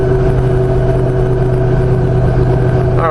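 A 2015 Jeep JKUR with an LS3 V8 and 6L80 transmission cruising in sixth gear at the top of a hill, a loud, steady low engine drone with constant road and cabin noise throughout.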